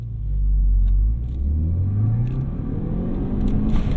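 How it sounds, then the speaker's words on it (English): A 2018 Ford Focus ST accelerates hard from a stoplight, its engine pulling loud and low inside the cabin, with the pitch climbing through a gear before easing into a steady drone. "We'll do a little heavy acceleration from the light."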